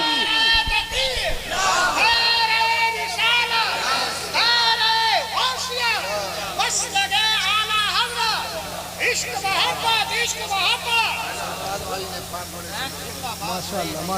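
A large gathering at a Muharram religious sermon by a preacher responds to a takbir call, a loud, close roar of many voices shouting in unison with rising and falling cries, followed by continuing babble.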